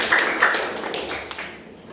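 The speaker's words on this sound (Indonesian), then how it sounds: "Oke, kita beri tepuk tangan dulu." A class gives a brief burst of scattered applause that thins out and fades within a couple of seconds.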